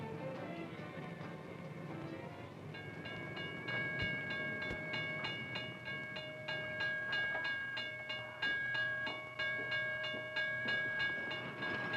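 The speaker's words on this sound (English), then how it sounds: "You can also see goods being moved on a train." A goods train rolls along the tracks with rhythmic clickety-clack beats and a sustained tonal whine, steady and fairly loud throughout.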